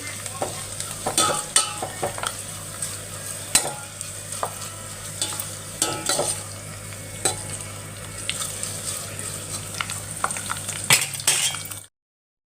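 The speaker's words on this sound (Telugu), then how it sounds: "ఇవి కొంచెం బాగా మగ్గిపోవాలన్నమాట కరివేపాకు అంతా ఉడకాల కొద్దిసేపు ఇక్కడ మిక్స్ చేసి" Curry leaves stir-frying in hot oil for a homemade hair oil, a steady sizzle broken by repeated scraping clinks of a spoon against the pan, continuous and close, with no voices.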